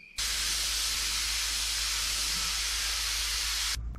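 Spray gun laying down a medium wet coat of paint on a 1959 Dodge, a loud, steady broadband hiss that starts abruptly, holds evenly for several seconds, then cuts off.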